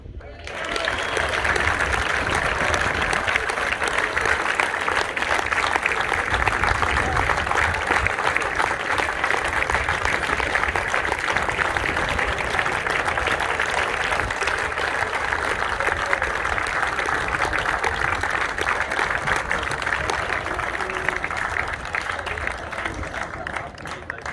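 An audience applauds an academy player at AFC Sudbury Academy presentation day, sustained steady clapping from a sizeable crowd at a constant level, with some crowd noise and no clear talk over it.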